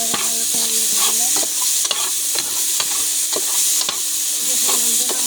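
Bay leaves and spices fry in oil in a pan while being stirred, a continuous sizzle punctuated by a regular series of spatula scrapes and knocks against the metal.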